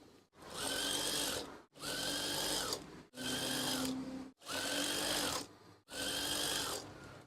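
Sewing machine stitching fabric for a swag curtain, running in five steady bursts of a few seconds each, with short pauses between them, loud and close with no voices.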